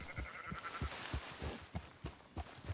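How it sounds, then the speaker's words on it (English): Sheep bleating in the video game Red Dead Redemption 2, several short quiet bleats overlapping in a loose rhythm, moderately distant. "The sheep weren't so close to home."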